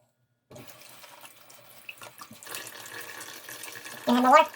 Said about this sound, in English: I'm gonna add some water directly in the center there.